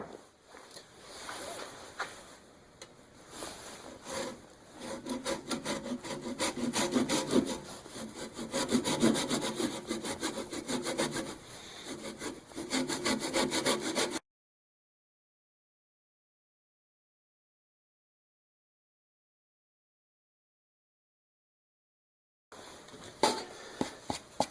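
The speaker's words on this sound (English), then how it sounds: "I'm doing a wet turning, so it's going to warp." A wet spalted maple blank turns on a wood lathe for a square dish, giving a loud, continuous rasping scrape that runs steadily, stops abruptly into silence, then resumes briefly near the end.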